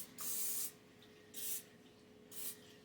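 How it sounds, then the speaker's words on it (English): Extra virgin olive oil cooking spray hisses out of a can in three short bursts, the first longest, close and fairly quiet with no one talking. "I'm going to spray it with cooking oil, cooking spray, olive oil, extra virgin olive oil cooking spray."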